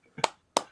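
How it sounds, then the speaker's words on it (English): Two soft, polite claps of a golf clap, close and quiet, spaced about a third of a second apart with nothing else around them. "Golf clap."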